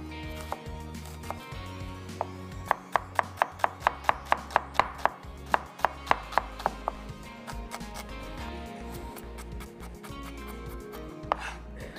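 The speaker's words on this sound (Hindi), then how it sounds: "ये हो गई प्याज हमारी चॉप्ड" A knife chops a medium-sized onion on a cutting board in a home kitchen, making a quick, even run of crisp, close taps followed by a few scattered strikes.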